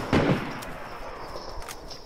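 A sniper rifle shot in a multiplayer shooter game, one sharp, loud crack near the start that fades into a brief echoing tail over quiet background noise.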